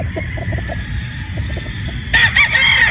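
A Sweater Boston straight comb gamefowl rooster clucks low and close, then breaks into a loud, strained crow over a faint background murmur at a Batangas game farm.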